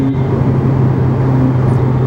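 A Ferrari F8 Tributo engine heard from inside the car on a drive in Bahrain: a close, steady, loud drone with a continuous low hum and no break for the whole moment.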